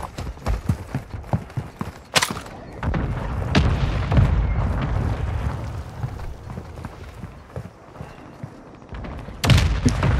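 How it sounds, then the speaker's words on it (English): Mortar rounds land during Call of Duty Modern Warfare II gameplay, a run of sharp thuds and booming impacts, some close and loud, others duller, spread unevenly across the stretch amid rapid gunfire-like crackle. "Mortar, careful."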